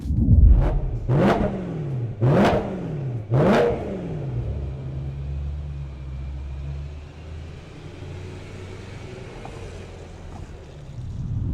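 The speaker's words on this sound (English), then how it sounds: "we'll jump out in the M3, we'll see if we can beat the 0 to 60" A BMW M3 accelerates hard from a standstill through several quick gear changes, the engine pitch rising and dropping each time. It then settles into a steady drone with wind noise.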